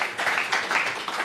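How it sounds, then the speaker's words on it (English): Audience applause for speaker Scotty Allen at a talk, a short, steady patter of many hands clapping in a room, moderately loud and fairly even throughout. "One more round of applause for Scotty."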